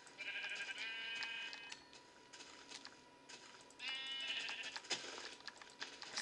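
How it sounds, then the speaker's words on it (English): Sheep bleat twice in the block-building game Minecraft, each bleat a wavering, nasal call standing alone over faint background ambience in open plains fields. "Ooh, plain fields. The plain fields, yay! Because I see sheep."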